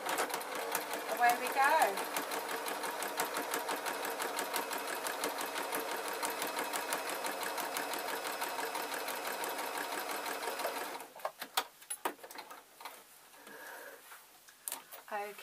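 A sewing machine stitches a proper waistcoat in one long steady whirring run, then shifts to short choppy bursts; a voice speaks briefly over it.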